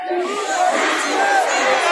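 A festival crowd in Sefrou loudly chants a call-and-response refrain back to a singer, a dense roar of many voices shouting in unison for a couple of seconds.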